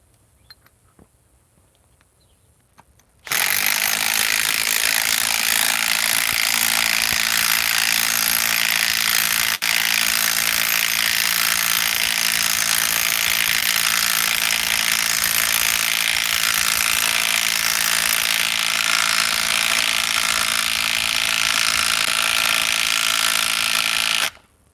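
A Milwaukee M12 stubby impact wrench starts after a quiet moment and then runs loud and continuous for about twenty seconds of hammering before it stops.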